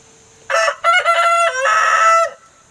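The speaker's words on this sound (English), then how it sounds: "He's just learning to crow." A young rooster, part Barred Rock and part Buff Orpington, about five to six months old and just learning to crow, crows once, close and loud, in a rough, cracking, uneven call that breaks into several segments.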